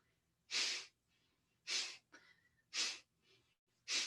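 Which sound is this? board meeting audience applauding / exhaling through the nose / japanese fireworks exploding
exhaling through the nose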